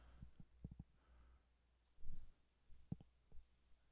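Faint, quiet mouse clicks come in a few scattered pairs and singles while edges are selected in CAD modelling software. No one speaks.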